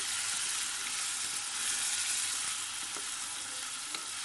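Two medium tomatoes, peeled and cut into thick rounds, fry in a pan for lobia masala, giving a steady, even sizzle and hiss from start to finish with no talking.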